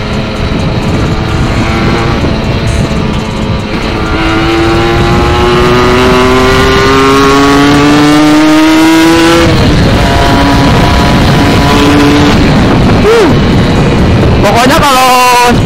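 Motorcycle fitted with an old TM 34 carburetor revving hard on a test ride, engine pitch climbing in rising sweeps with roaring harmonics, loud and close, then a sharp blip and rev near the end.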